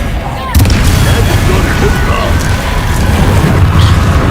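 Confringo blasting-spell explosion in a Harry Potter video game, a sudden loud boom that breaks in after a quiet moment and rolls into a sustained rumbling roar.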